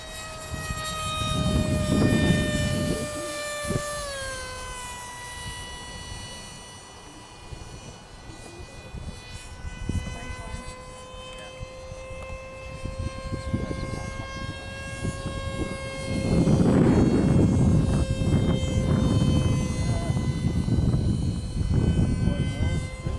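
A radio-controlled warbird model airplane flies overhead, its engine a sustained high-pitched drone that drops in pitch as it passes and then holds steady, with people talking nearby at a flying field.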